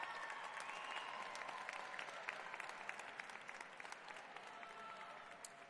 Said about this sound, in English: How about a final round of applause for our Bachelor of Science in Nursing recipients?